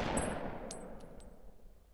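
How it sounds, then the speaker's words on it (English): Gunfire in the gangster strategy game Omerta: City of Gangsters, a single sharp shot followed by a few quieter ringing hits that fade into a low decaying tail. "And now I'm going to shoot this guy."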